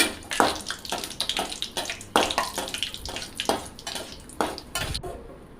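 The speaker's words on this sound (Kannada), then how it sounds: "ಇದು ಇಲ್ಲಿ ಚೆನ್ನಾಗಿ ಫ್ರೈ ಮಾಡ್ಕೊಳ್ಳೋಣ ಸ್ವಲ್ಪ ಕಂದು ಬಣ್ಣ ಬರಲಿ" Grated carrot fries in a pan for carrot halwa while a spoon stirs it in rhythmic, close scraping strokes, roughly two per second, over a light sizzle.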